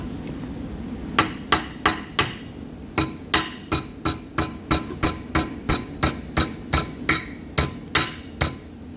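Hammer striking a chromoly tube clamped in a vise, about twenty sharp metallic blows in a fairly steady rhythm with a brief pause near the start, close and ringing.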